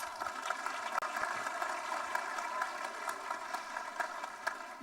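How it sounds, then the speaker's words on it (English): A crowd in a hall at a school annual day cultural show gives a round of applause, heard as a soft, continuous wash of distant clapping throughout. "let's give them a thunderous applause"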